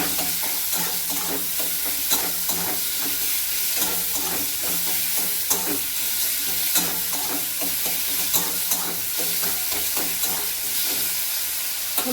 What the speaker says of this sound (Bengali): হলুদটা ভাজা হয়ে গেছে